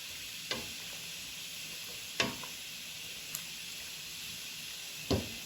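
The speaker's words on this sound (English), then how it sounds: "And I'm going to stir." A pot of Cameroonian eru with seasoning cubes simmers on the stove under a faint hiss, with a few sparse, soft knocks of a spoon stirring.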